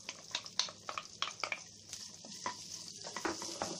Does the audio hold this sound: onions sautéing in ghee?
yes